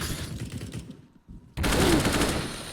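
Rapid bursts of gunfire from a competitive tactical shooter match, loud and dense, dropping to near quiet for a moment before a sharp burst of shots resumes at full volume.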